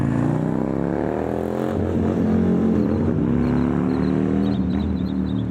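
A CVO motorcycle accelerates close by. Its engine note climbs steadily, dips briefly at a gear change, then pulls again, loud and continuous with no talk.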